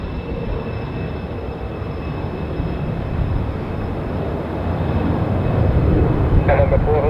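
A private jet is heard at an airport as a broad, steady roar that swells slightly louder toward the end, while a radio voice speaks over it.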